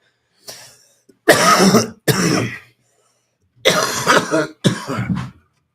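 Several harsh coughs in quick clusters, loud and close, with short pauses between bursts.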